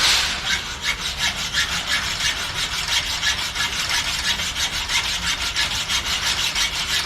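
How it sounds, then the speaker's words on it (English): Hacksaw cutting through welded metal on a gate, steady rapid back-and-forth strokes, close and loud, with no voices. "I did use my hacksaw, seemed to be cutting better"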